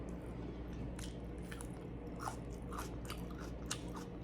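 Close, quiet crunching and wet chewing of pickled onion during a Filipino mukbang of barbecue pork, rice and garlic, with scattered crisp bites over a low steady background hum.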